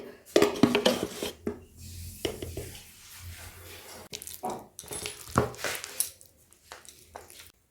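Green banana and boiled potato mashed together with a little gram flour in a bowl for kofta, giving soft irregular squishing and clinking scrapes of a utensil against the bowl, close and moderately loud with brief pauses.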